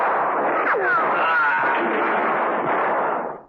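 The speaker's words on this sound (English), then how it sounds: "Rostov had a gun trained on him and fired it several times" A handgun fired several times in a close-range shooting, heard as a dense, sustained burst of loud cracks and reverberant noise with a sweeping whine, continuous for about three seconds before cutting off.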